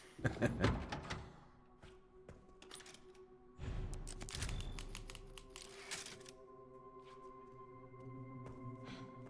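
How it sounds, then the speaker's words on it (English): Typewriter keys clack in Resident Evil Requiem, a burst of rapid strikes at the start, then scattered keystrokes and mechanical thunks, fairly close and crisp over a quiet game ambience. "I love that they kept with the typewriter."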